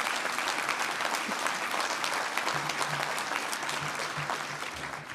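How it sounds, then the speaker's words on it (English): Union members at a meeting applauding themselves, a dense sustained roomful of clapping that holds steady throughout and thins slightly toward the end. "Give yourselves a round of applause."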